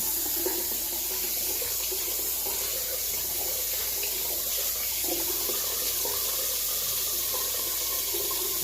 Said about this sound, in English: So I'm gonna turn the water on.